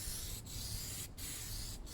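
An aerosol can sprays Plasti Dip onto a Suzuki Bandit motorcycle, giving a steady faint hiss broken by three brief pauses in two seconds.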